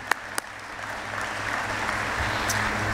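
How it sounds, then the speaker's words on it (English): Audience applause at an annual meeting luncheon: a steady, fairly quiet wash of many hands clapping from across the room, with a couple of sharper claps near the start. "I think we should clap and give ourselves a hand."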